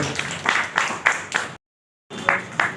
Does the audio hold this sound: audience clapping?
yes